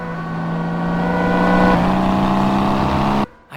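Speeding cars accelerate with a loud, sustained engine whine on the Autobahn in the Xbox 360 racing game Crash Time 4: The Syndicate, steady and close before cutting off abruptly near the end.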